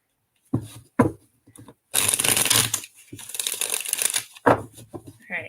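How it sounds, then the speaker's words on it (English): A deck of cards being shuffled during a live card reading: a few quick riffles and taps, then a long crisp riffling burst and another rapid run, close and clear with short pauses between. "All right, one more shuffle and that should be good"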